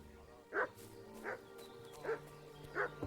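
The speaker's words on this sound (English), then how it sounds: "What's that dog making such a fuss about?" A dog in a video game set in 1400s Bohemia barks four times at an even, steady pace. The barks sound faint and somewhat distant over a low, quiet background.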